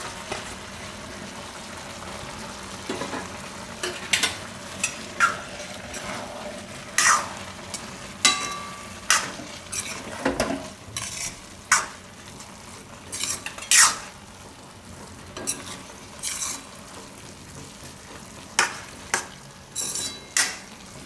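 Maggi noodles and rice cooking in a pan, stirred with a utensil that scrapes and clinks against the metal in irregular taps over a soft, continuous sizzle, with no voices.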